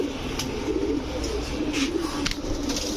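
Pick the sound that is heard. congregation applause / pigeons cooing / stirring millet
pigeons cooing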